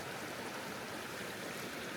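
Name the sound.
mountain stream water flowing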